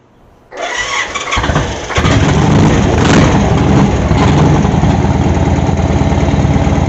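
An old vehicle's rebuilt engine cranks and catches, then settles into a loud, steady running idle, heard close up with no talking.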